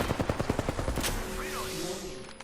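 Rapid bursts of automatic gunfire from an Apex Legends firefight crack out in a quick rhythmic string for about a second, then give way to lingering echo and game ambience.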